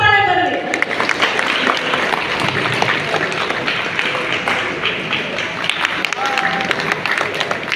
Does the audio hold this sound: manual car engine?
no